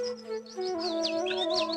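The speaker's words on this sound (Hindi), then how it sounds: "चिड़िया चहक रही है" Birds chirp and tweet outdoors in a natural setting, a quick string of bright, high calls over a steady low hum, fairly close and clear with no talking.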